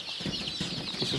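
Local chickens on a small Assamese poultry farm, a few soft, short clucks and chirps over a steady hiss of ambient noise, fairly faint and nearby.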